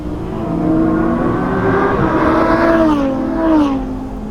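A Lamborghini Huracán Tecnica at speed on a race track, its engine loud and close with a sustained roar that rises and shifts pitch through gear changes and revving, with no voices.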